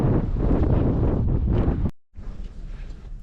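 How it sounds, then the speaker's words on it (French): Strong wind gusts buffet the microphone with loud, continuous low roaring at a salt lake along an outback Australian road trip, briefly cutting out before resuming slightly softer. "il y a beaucoup de vent"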